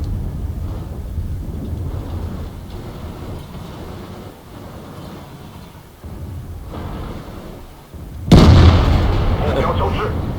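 A tank's ammo rack detonates in the video game World of Tanks, a sudden loud booming blast that cuts in near the end over a steady rumble of battle noise and engine drone, with a voice talking.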